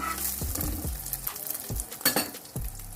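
An egg frying in a hot pan as it is flipped over, with sizzling underneath, scraping and clinks of a spatula against the pan in short irregular strokes, close up.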